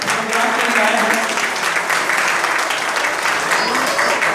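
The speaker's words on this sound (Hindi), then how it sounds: "एक बार और जोरदार तालियों से इनका स्वागत करता है।" Loud, sustained applause from a crowd welcoming performers who travelled far to a Friends of Tribals Society Karnataka event, steady hand clapping filling the whole stretch with a faint voice or tone drifting above it.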